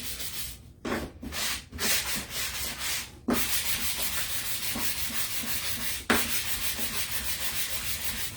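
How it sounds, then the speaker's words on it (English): Wood being sanded by hand with a block, a rapid series of rhythmic scratchy strokes, close up, pausing briefly a couple of times. "we're gonna take our sanding block, sand this down a little bit"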